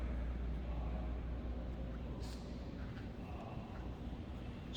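The engine of a 1955 Oldsmobile 88 sedan, rebuilt, with dual exhaust, runs at a steady idle. It makes a low, even rumble, fairly quiet and continuous, with no talking.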